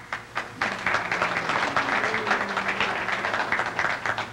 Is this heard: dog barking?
no